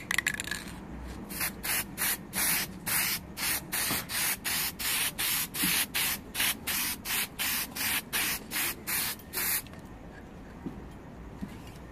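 Enamel paint is sprayed from an aerosol can onto an epoxy-reinforced aluminum car grill for a Chevy Volt, heard as a quick series of about fifteen short hissing bursts with brief gaps between them, close and moderately loud with nothing else present.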